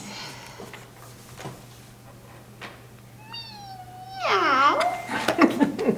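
A woman imitates a cat meow, giving a rising then falling drawn-out mew followed by a louder, wavering second meow, preceded by quiet room noise with a few faint clicks.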